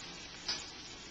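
An omelet sizzles in a pan over medium heat, a soft, steady frying hiss with one brief louder crackle, quiet and close.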